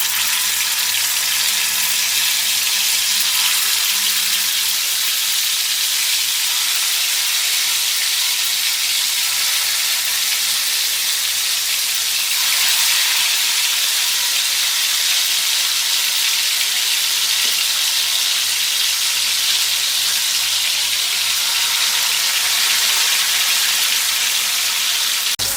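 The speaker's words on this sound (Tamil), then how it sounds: "அது பிறகு வந்து ஆயிலில் பொரிச்சு எடுத்துடலாம். பீசஸ் எடுத்து போட்டுடலாம்." Chicken 65 pieces deep frying in hot oil, a loud, steady crackling sizzle that runs on without a break, close up and with no voices.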